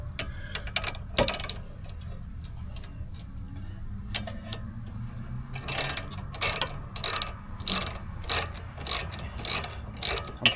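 Ratchet clicking in rapid bursts as 18mm caliper bracket bolts on a 2018 Chevy Malibu rear brake are snugged down, close and loud over a steady low shop hum, with quicker clusters of clicks toward the end.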